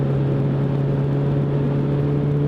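A Suzuki Bandit 1200 motorcycle engine drones at a steady pitch while riding on a mountain road, producing a constant, close hum with a low rumble underneath and no change in revs.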